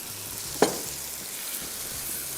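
Ghee or cooking oil for a tadka on mash daal gives a brief sharp sizzle burst, then a faint steady frying hiss continues quietly alone.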